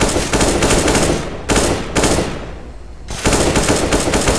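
AK rifle fire in Counter-Strike: Global Offensive, with loud rapid automatic bursts separated by short pauses, close and dominant with no talking.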